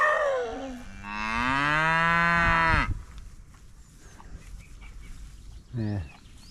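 Cattle in a field beside a countryside running route let out one long, loud, close moo lasting about two seconds, followed by quieter outdoor rustling and a brief second lowing call near the end.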